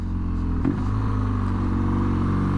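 The exhaust of a 2022 BMW R NineT Scrambler motorcycle drones steadily and loud while riding, a deep continuous engine note with a brief throttle blip and no talking.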